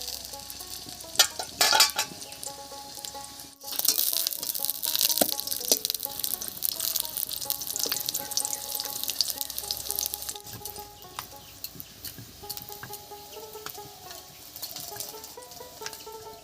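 Aloo paratha fries in white oil in a wok with a loud, steady sizzle that swells after a sharp clatter, close up, with occasional scrapes and taps as it is turned.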